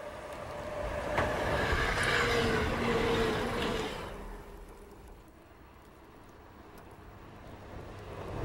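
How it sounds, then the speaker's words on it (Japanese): Train pulling into a station platform, a rumbling approach with squealing tones building over the first four seconds, then fading to a quieter low hum. "まもなく列車が参ります。"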